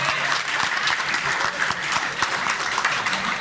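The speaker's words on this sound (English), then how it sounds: "So just clap for each other, guys." Loud, sustained clapping from graduating students applauding one another at a 2022 business school convocation, close and continuous with no pause.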